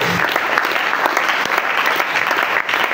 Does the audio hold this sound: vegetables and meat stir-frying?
no